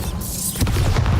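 A Bombarda blasting spell detonates in the video game Hogwarts Legacy, a loud booming explosion with a rumbling low crash following a brief rising whoosh.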